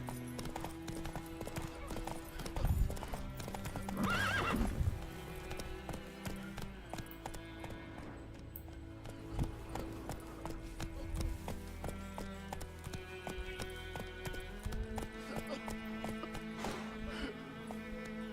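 Hooves of the horse Roach clip-clop at a gallop in the video game The Witcher 3, a steady rhythmic pounding over game music, with a brief whinny and some talk mixed in.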